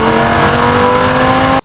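A Lamborghini Huracan Performante exhaust held at a loud, sustained high-rev roar with a steady tonal drone, close up, cutting off abruptly at the end.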